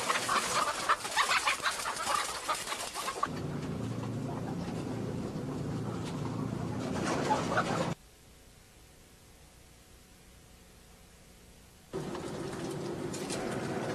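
Dense chorus of caged hens clucking inside a crowded egg farm shed holding over 100,000 birds, a constant noisy din that drops to near quiet midway before resuming.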